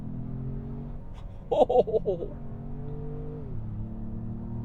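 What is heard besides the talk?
2025 Ford Maverick Lobo engine revving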